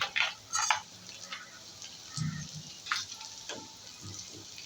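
Masala with coriander powder and ginger-garlic paste frying in oil, a soft steady sizzle with a few brief stirring scrapes and clinks, fairly quiet and without talk.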